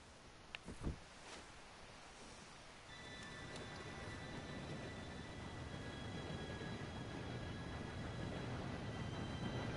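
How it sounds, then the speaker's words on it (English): A train approaching in Red Dead Redemption 2: a couple of faint knocks, then a low rumble that swells steadily louder, with a thin high metallic whine of wheels or whistle joining partway through. "Train should be here any minute now."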